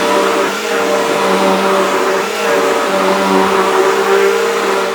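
Bissell vacuum cleaner running continuously while vacuuming a garage floor, a loud, close, steady motor whine with a slight rise and fall in pitch and no speech.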